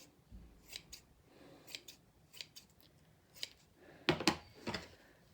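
Scissors trim a folded shoulder pad, giving a series of close, crisp snips at an uneven pace, with a louder cluster of cuts near the end.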